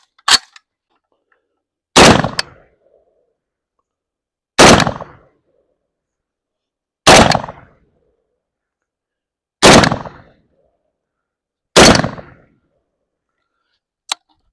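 An Arsenal SAM7K rifle fitted with a KNS adjustable piston set fully closed fires six loud, close shots at slow, even intervals of about two and a half seconds, each with a short ringing tail, and there is no talking.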